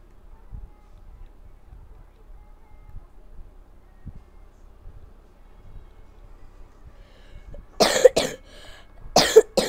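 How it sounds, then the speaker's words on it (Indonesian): Several harsh coughs from a person who has a cough, arriving in two close bursts near the end after a long stretch of quiet low rumble. "Maaf guys, karena saya lagi batuk ya."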